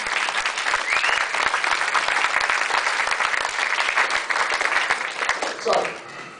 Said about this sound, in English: Give everybody a round of applause.